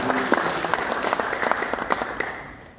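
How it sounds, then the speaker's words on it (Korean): Applause from a church anniversary worship service and general assembly audience as guests are introduced, steady clapping filling nearly three seconds with a few sharper individual claps standing out. "박수해 주시고 하세요"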